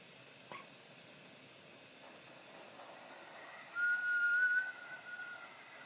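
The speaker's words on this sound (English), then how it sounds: "That's a weak whistle." A torch flame producing a weak, thin whistle that rises briefly for about a second over a soft steady hiss, with a small click earlier.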